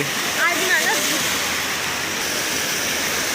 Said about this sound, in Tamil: அங்கிருந்து மொத்த தண்ணி இங்கே தானே ஓடுது